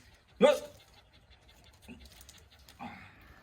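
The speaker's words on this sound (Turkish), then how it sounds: "Bu küçük kutu çoban köpeği." A small shepherd dog gives a single short bark, followed by a couple of softer huffs and whines, close by in a quiet room.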